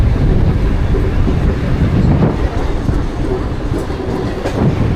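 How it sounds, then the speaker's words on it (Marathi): A train rumbles and clatters steadily close by at Nerul station, with faint wheel squeal and a busy station-like din throughout. "बाजूला ट्रेन लागलेली ती ओरण लाईनसाठी जाणार आहे"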